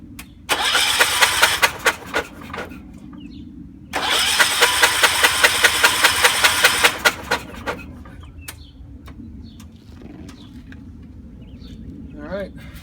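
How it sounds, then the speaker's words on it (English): The engine of a John Deere 314 garden tractor cranks over without fuel in two bursts of rapid, rhythmic churning, each lasting a few seconds, with no catch. Quiet gaps separate the bursts, with birds faintly in the background. "I'm just gonna turn it over, let the oil get moved around there a little bit."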